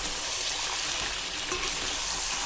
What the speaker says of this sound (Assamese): অকমান পানী ছটিয়াই